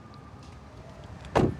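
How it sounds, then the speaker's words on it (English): A 2023 Honda Civic Si sedan door slams shut once, a single solid, fairly loud thud near the end after a quiet stretch. "we can't forget to check out how this door sounds when it closes"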